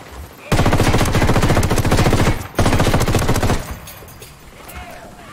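Loud, close automatic gunfire in Ghost Recon Wildlands: a dense, rapid burst lasting about two seconds, a brief gap, then a second sustained burst that cuts off and leaves a fading tail.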